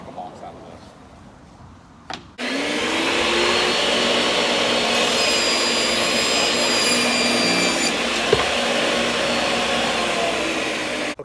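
A power saw cuts 1 by 8 boards down to 5-inch lengths for building classic porch columns, a loud steady whine starting abruptly after a quiet lead-in and running continuously near the mic.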